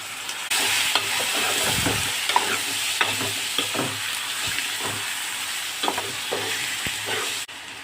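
Boneless chicken frying in a pan with a tamarind-leaf masala, a steady close sizzle broken by repeated stirring scrapes and clinks throughout, with no voices.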